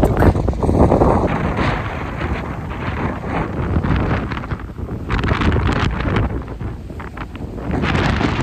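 Strong, gusty wind buffets the microphone outdoors around the Sofia Marathon, producing a loud, continuous roar that swells and eases over the whole stretch, with no talking.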